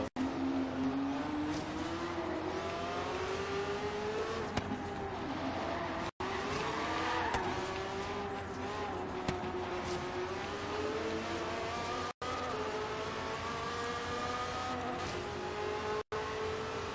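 A Nissan R390 race car cornering in Forza Horizon 3, with a steady loud engine drone that rises and falls in pitch through the bends, plus tire squeal, and no talk.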